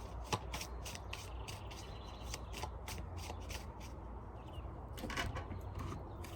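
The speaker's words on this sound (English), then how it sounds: "Just doing a quick shuffle here as I'm clearing out the energy mentally." Steady riffling of a deck of tarot cards being shuffled close up, continuous soft papery flutter with a few sharper snaps, no talking.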